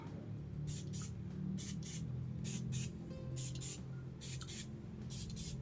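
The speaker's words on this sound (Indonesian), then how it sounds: "Semprot di baju sekarang ya." Extrait de parfum sprayed onto clothing from an atomizer bottle: a series of short, crisp hissing spritzes in quick pairs and triples, close to the ear, over a faint low background hum.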